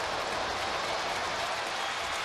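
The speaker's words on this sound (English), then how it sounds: "So this crowd's going to get to its feet." A baseball stadium crowd at an Oakland A's home game against Colorado roars and cheers with the bases loaded and two outs, a steady dense wash of noise throughout.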